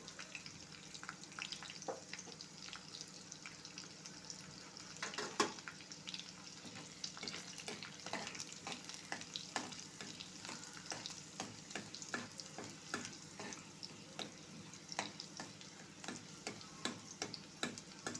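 Garlic with cumin sizzling in hot oil, a steady crackling fry with scattered sharp pops and ticks, close and alone with no voices.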